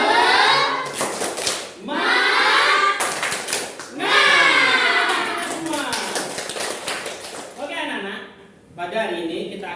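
A class of children doing a rhythmic hand-clapping routine, loud bursts of claps in a patterned beat mixed with voices chanting along.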